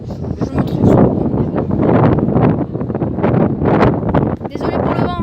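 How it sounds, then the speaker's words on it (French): Wind buffets the microphone on a ferry's open passenger deck, a loud, steady roar with gusting swells running the whole time under a woman's speech. "Désolé pour le vent."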